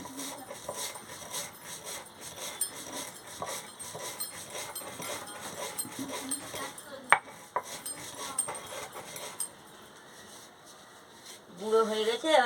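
Roasted cumin seeds being ground by hand in a home kitchen, giving a steady gritty rubbing and scraping with light clinks of utensils, fairly close and continuous, while kitchen noise and a little talk carry on around it.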